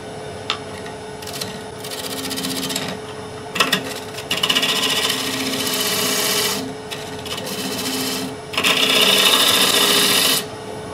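A gouge cuts into a wooden bowl spinning on a woodturning lathe, making a loud, scraping, rasping roar in long sustained bursts with short breaks between passes, heard close and without talk over the steady whir of the lathe.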